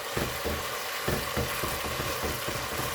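Garlic frying in oil in a pan for aglio e olio spaghetti, a constant loud sizzle with soft rhythmic stirring scrapes beneath it.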